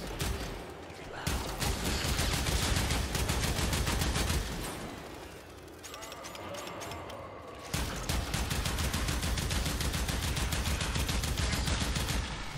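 Sustained rapid gunfire in the video game Warframe, during a boss fight against Mutalist Alad V, roars loud and dense almost throughout, briefly easing in the middle before resuming at full intensity.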